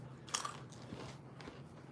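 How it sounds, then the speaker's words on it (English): Someone crunches on snacks close by, with a sharp bite followed by softer, irregular chewing crunches at a low level and no talk. "The crunching de-stresses me."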